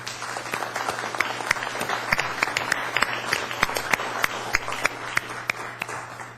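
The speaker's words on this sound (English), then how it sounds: "I would like to give those speakers a fine round of applause and a thank you" An audience at a Cambria community services district board meeting applauds the public speakers, a moderate crowd clapping with a few sharp, distinct claps standing out above the steady patter over a low constant room hum.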